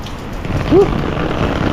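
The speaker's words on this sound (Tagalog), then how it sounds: "umagang napaka madilim kasi nga nag-uulan." Steady, dense rain pouring down in a loud, continuous hiss, with a brief low voice-like tone briefly rising over it.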